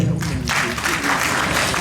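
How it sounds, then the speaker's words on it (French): Audience applause at a community event, a dense, steady wash of many hands clapping filling the whole stretch, fairly loud and continuous with a faint voice underneath at the start. "Applaudissez pour eux."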